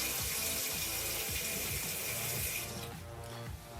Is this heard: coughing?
no